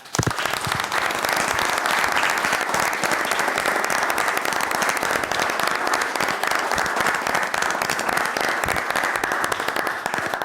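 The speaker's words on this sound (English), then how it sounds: "great applause to Mike today." Vigorous applause from a tribute gathering honoring a business ethics figure, loud crisp clapping from many hands sustained evenly for about ten seconds, sharp individual claps standing out in the dense crackling mass.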